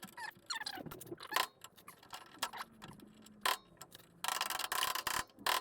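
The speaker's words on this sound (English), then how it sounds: "Trying to get that little split pin out" Split pin being worked out of a 1952 Volkswagen barn door gearbox: quiet, close metallic clicks and small scrapes in irregular bursts, with a denser run of scratching near the end.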